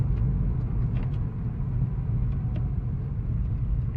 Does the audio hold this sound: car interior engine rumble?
yes